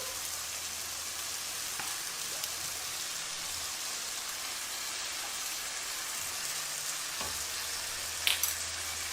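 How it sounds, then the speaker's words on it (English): Vegetables seasoned with salt, pepper and lemon juice sizzle steadily in a hot pan for a chicken pasta, a dense even hiss with a few soft spoon scrapes near the end and no talking. "Just give that a good stir."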